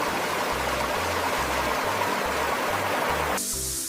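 Fast-moving mountain stream water rushes in a steady, close, full-bodied wash with no voices, shifting brightness slightly near the end.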